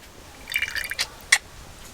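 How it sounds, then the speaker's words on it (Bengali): White cooking oil is poured into a wok, giving a few bright liquid splashes and drips in quick succession, then a sharper splat, close and clear against a quiet background. "সাদা তেল দেব কড়ায়"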